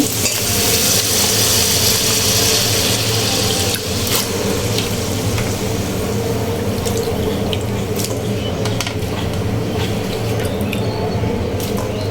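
Bottle gourd greens tossed into a pan of sizzling fried spices hiss and crackle loudly and steadily, a close, dense frying roar with small pops throughout and no voices.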